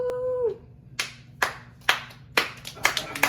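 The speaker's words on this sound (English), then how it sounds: "Hey, did anybody clap for us?" A small family claps in a home, a few loud, separate hand claps arriving at irregular intervals after a brief vocal sound at the start, close and sharp against a quiet room.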